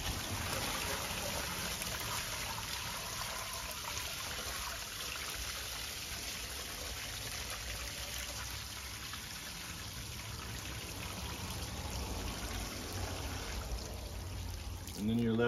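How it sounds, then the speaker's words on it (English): Clear water is poured off settled clay while removing salt from it, giving a steady, continuous close pour over a constant background hiss, with a slight surge near the end. "So I'll just pour off the clear water."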